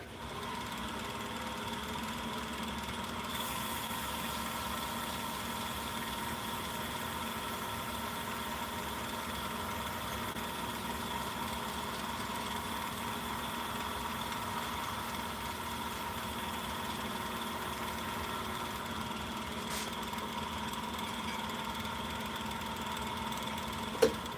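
A wood lathe spins a cobalt blue and maple burl hybrid pen blank while it is sanded with the next grit pad, giving a steady, even machine whir and hum that stays constant throughout, with no voices.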